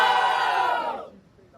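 Rap battle audience cheering for the duo Silas and Raef, a loud burst of crowd shouting and whooping that holds briefly, then drops off sharply into quiet.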